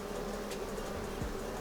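A steady, close buzzing hum of honeybees rolled around inside a jar during a Varroa mite check, continuous and fairly loud, with no talking.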